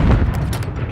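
A grenade explodes in the video game Call of Duty Modern Warfare III, producing a heavy, rumbling low boom that rolls on for about a second with scattered crackling debris above it.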